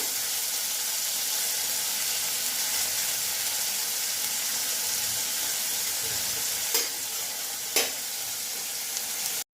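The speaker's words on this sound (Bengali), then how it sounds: "আমি চিংড়ি মাছটা একটু ভেজে নেব চিংড়ি মাছটা একটু হবে কড়া করে ভাজবো না" Prawns frying in hot oil for a Bengali yam-and-prawn curry, giving a steady, close, dense sizzle throughout with two brief sharp clinks near the end and no voices.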